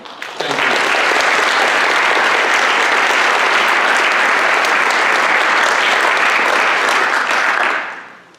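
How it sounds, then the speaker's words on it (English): Sustained audience applause at a scholastic honors night, a dense, loud wash of many hands clapping together that holds steady for about seven seconds before fading out at the end. "a round of applause to thank all of them"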